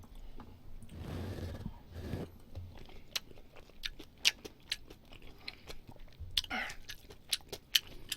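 Someone chews a meal of Japanese curry with grilled Spam and a fried egg, producing soft close crunches, bites and wet mouth clicks in an irregular rhythm, with brief murmurs near the start.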